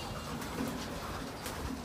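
Racing pigeons inside a loft coo softly, low murmuring calls at a distance, quiet and continuous with no talking.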